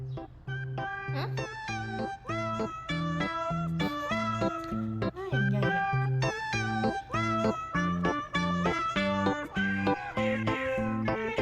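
Repeated meows from a chubby cow-patterned cat, loud and close, coming in a steady string of drawn-out calls with short gaps across the whole stretch, with no talking over them.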